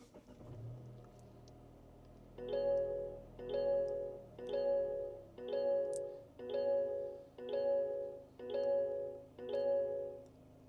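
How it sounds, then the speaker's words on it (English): Eight evenly spaced electronic seatbelt warning chimes ring in a steady rhythm inside a quiet 2025 Mazda3 Turbo, after a short low engine start. "if you want to avoid listening to those chimes, you can just put your seatbelt on"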